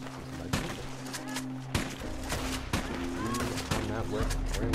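Gunfire in the Red Dead Redemption 2 Online video game, several sharp shots at irregular intervals over a steady game backdrop, with someone talking throughout.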